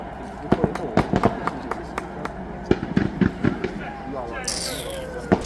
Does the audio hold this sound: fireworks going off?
yes